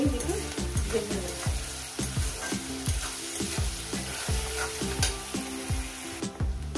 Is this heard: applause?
no